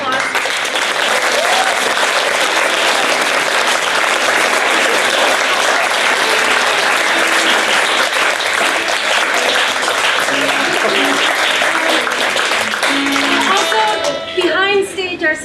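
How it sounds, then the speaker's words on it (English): Sustained, loud applause from a theatre audience for a drama cast, dense clapping filling the room throughout before thinning slightly near the end. "So one more applause."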